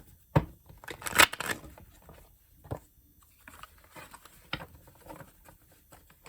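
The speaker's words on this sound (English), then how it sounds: "I want to give a good riffle shuffle because, man, a lot of these same cards keep coming out." Tarot cards riffle-shuffled by hand: a quick burst of crisp flapping and patter, then scattered soft taps and card handling, close and fairly quiet, with no talk.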